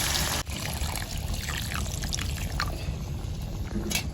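Hot water is poured into a pot of village-style chicken curry with taro, a continuous close trickle and splash over bubbling liquid, ending in a couple of small clinks.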